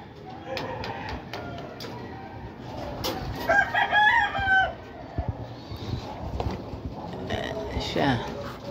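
A gamefowl rooster crows loudly and close during a training session, with a long strained crow in the middle and scattered clucks and bird calls around it, while people talk nearby and handle the birds.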